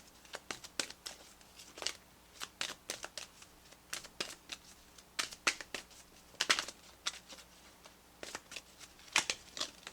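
Tarot cards are shuffled by hand in quick, crisp riffles and snaps, an irregular run of sharp papery bursts close to the listener in a quiet room, without speech.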